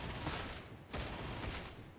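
Plasma gun fire from a grim sci-fi co-op shooter, Darktide, heard as a steady run of mid-loud discharges with two stronger bursts, one near the middle and one later, over a busy game background.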